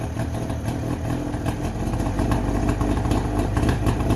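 A two-stroke car engine idles steadily after a fresh start, a dense, continuous rattling burble held close and loud for the whole stretch as it warms up.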